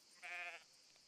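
A sheep in the Everdream Valley video game gives a single short, thin bleat, faint and alone against quiet background.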